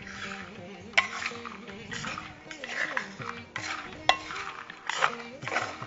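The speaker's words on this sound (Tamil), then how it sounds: "இதை அப்படியே கொஞ்சம் மிக்ஸ் பண்ணிக்கலாம்." Boiled chickpeas and black-eyed beans are tossed in a bowl with lemon juice, the spoon scraping and clinking in irregular strokes and a few sharper knocks, with faint background tones under the mixing.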